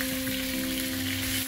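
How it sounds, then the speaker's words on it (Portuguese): Pieces of oxtail fry in a pan with a steady, close sizzle and no voices over it. "Após fritar cada peça de carne dos dois lados"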